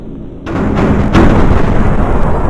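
Airstrike explosions on robots in the People's Playground video game, a sudden loud blast followed by a second burst and a sustained heavy rumbling roar that fills the rest of the moment.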